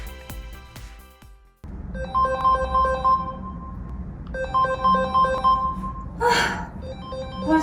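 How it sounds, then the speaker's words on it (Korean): A phone ringtone rings in repeated melodic bursts, close and clear, after a brief burst of other tones; a short gasp or sigh breaks in near the end. "벌써 몇 통째야? 또 전화야?"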